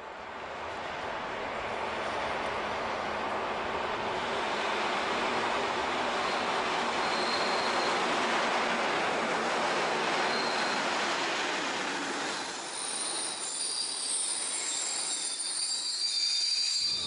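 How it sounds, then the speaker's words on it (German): A DB class 228 diesel locomotive, freshly overhauled, hauls a train past in a steady, loud, continuous rumble and rolling roar with a faint high wheel squeal toward the end. "Der 228-788 hat den Zug von Nordhausen nach Nordheim gebracht."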